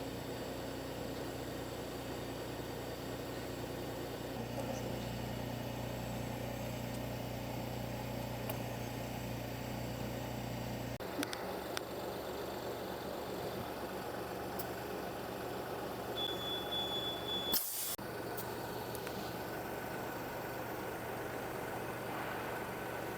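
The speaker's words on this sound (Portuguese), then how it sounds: "Agora eu vou manobrar o carro" A Volkswagen Gol Last Edition car engine runs steadily at a low idle while the car is maneuvered, with a few light clunks and one sharp knock late in the sequence.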